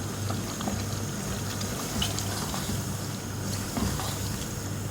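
Mutton pieces with tinde and green chillies sizzling as they fry in a pan, a soft steady crackle with occasional pops, quiet and close.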